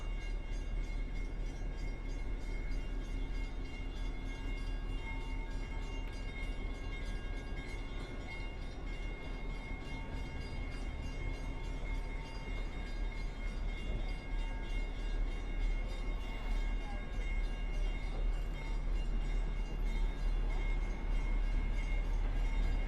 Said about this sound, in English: Train's actually going to cross Water Street here.